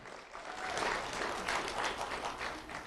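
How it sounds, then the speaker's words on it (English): An audience at a sheriff's office recognition event applauds steadily for about three seconds, a broad wash of many hands clapping at moderate volume with no voices over it. "Round of applause for Jocelyn."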